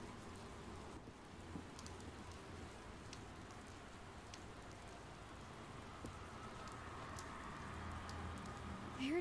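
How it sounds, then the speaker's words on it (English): Soft, steady rain falls in a video game, forming a quiet, even hiss with a faint low rumble beneath and scattered drops, growing slightly louder toward the end with no voices. "Is it raining?"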